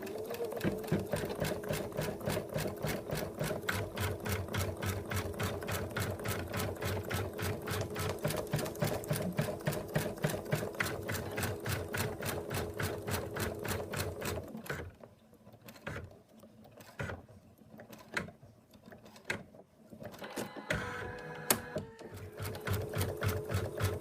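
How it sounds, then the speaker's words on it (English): An embroidery machine stitches out the outline of an in-the-hoop moose design, running as a steady, rapid needle clatter close by. Partway through it slows into uneven bursts and pauses, then returns to its even rhythm. "now we're going to stitch out the last color, and that's going to do the outlines."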